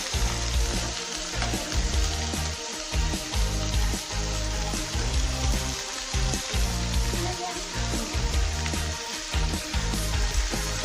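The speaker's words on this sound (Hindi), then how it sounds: "चिकन को ऐड करके चिकन फ्राई करेंगे और यहाँ पे हम लोग ऑनियंस को भी ऐड करेंगे" Chicken and onions frying in a pan, a dense continuous sizzle and crackle with faint stirring, close and steady throughout, no talk.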